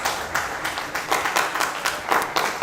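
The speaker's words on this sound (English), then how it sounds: "a round of applause, a round of applause" A round of applause from the crowd at a guild leaders' swearing-in ceremony, moderate crowd clapping that swells in uneven bursts, somewhat distant.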